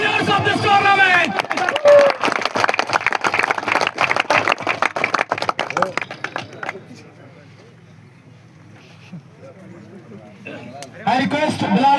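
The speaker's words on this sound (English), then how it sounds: "And a special claps for the winners of this tournament." A crowd at a tournament award ceremony claps in dense, sustained applause mixed with cheering voices. The clapping fades to a quieter lull before a voice speaks over a loudspeaker.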